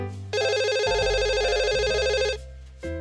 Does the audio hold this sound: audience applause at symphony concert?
no